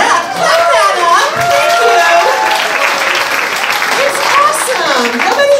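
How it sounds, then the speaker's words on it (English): Comedy club crowd at a stand-up show responds with applause, chatter and laughter, steady and fairly loud throughout, while a voice talks over the noise. "Yeah, clap that up."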